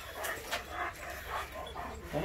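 A male farm dog from the neighboring farm barks and whimpers in a series of short, repeated yelps roughly every half second, fairly close, with a low rumble underneath.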